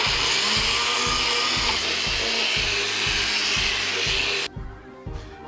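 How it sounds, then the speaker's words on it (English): An electric blender whirs through a mango smoothie with a steady, loud motor drone and a rhythmic thumping churn, then cuts off abruptly near the end, leaving a brief quieter rattle. "Now it's time to blend."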